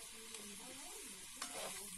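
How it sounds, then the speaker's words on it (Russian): Chicken breast frying in a little oil in a pan in a home kitchen, a steady close sizzle with soft stirring scrapes, no voices. "Это пускай у меня сейчас тут обжаривается."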